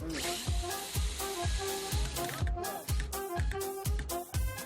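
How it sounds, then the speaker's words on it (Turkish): A power drill drives a screw in an upcycling workshop, its whirring motor rising in repeated bursts, close and loud. "İlk ilk, ilk vidayı ben vuruyorum o zaman."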